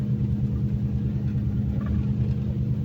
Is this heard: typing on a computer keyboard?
no